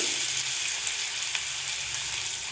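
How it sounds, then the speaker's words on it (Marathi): A chopped onion frying in a pan over full gas heat for methi bhaji, a constant dense sizzle heard up close with faint stirring touches and no talk. "तो कांदा छान असा गुलाबी रंगावर तळून घ्यायचा आहे"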